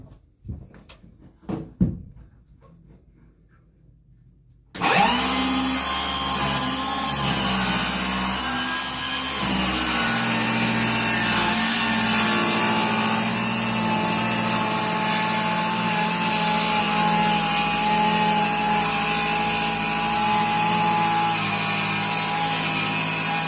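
A saw rips lengthwise through a 2.5-inch wide board during a front crossmember build for an RV, starting after a few quiet knocks and then running loud and steady for nearly twenty seconds.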